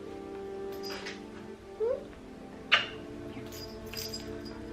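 A cat gives a couple of short meows over a steady low hum, with faint clinks and rustles nearby.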